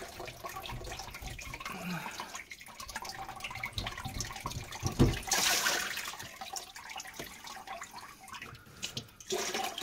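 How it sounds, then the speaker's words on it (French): Water draining out of a sink basin, with gurgling, trickling and a rushing surge midway as it empties, close and fairly loud with no voices. "vous videz l'eau du bac"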